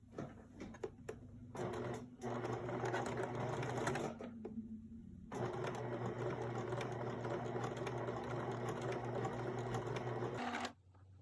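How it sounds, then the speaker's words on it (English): A sewing machine runs a medium zigzag stitch around lace scallops, whirring close in two steady bursts separated by a brief stop, with a few light clicks between runs. "I'm going to use a medium width and length zigzag stitch to very carefully stitch"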